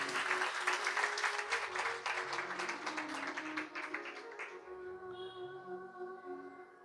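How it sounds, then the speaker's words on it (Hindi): A crowd claps at a Bhagwat Katha religious gathering, brisk dense applause that tapers off midway, leaving a sustained tonal hum with soft background sounds. "एक बार उनके लिए भी ताली बजा दें"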